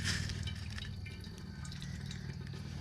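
Lake water that has just been filtered drips and trickles steadily into a container outdoors, a continuous close splashing patter with a low rumbling undertone.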